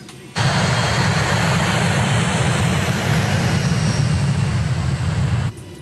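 Steady, loud roar of an airplane cabin and its engines in flight, a dense low rumble with broadband hiss that holds constant for several seconds before cutting off.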